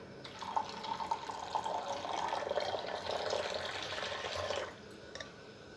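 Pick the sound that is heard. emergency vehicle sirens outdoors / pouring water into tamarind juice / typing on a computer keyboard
pouring water into tamarind juice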